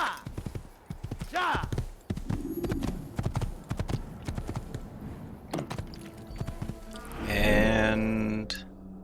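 Horse hooves clip-clop in the Assassin's Creed video game, a steady trotting rhythm running under a voice talking over it, ending with a loud horse whinny near the end.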